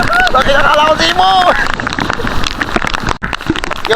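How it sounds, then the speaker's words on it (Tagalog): Heavy rain pouring on an open fishing boat, a dense steady hiss with wind buffeting the microphone, loud and close while people talk over it. "talagang malakas na ang ulan"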